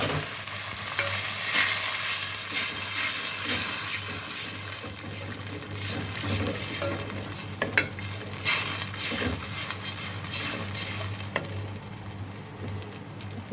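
Fried onion sizzling in a pan with freshly added ground mustard and green chili paste, continuous hissing broken by repeated scraping stirs and clinks, plus a low steady hum underneath.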